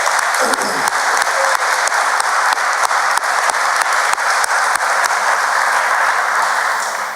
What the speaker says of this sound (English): So I think they deserve a huge round of applause.